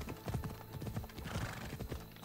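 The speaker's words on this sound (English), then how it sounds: "I love how I'm just like riding a horse on the edge of a cliff." Horse hooves clip-clopping while riding in the video game Assassin's Creed Odyssey, a steady galloping rhythm of close, clear hoofbeats with faint ambient wind and a horse's whinny mixed in.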